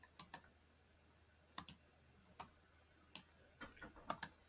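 Computer mouse clicks while editing online, sharp faint single and double clicks spaced irregularly over a quiet background, with a small flurry near the end.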